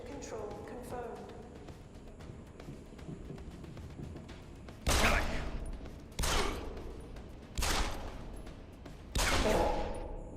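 Gunfire in the video game Deus Ex: Human Revolution, four sharp loud shots or short bursts spaced a second or so apart, following a stretch of quieter in-game sound and voices.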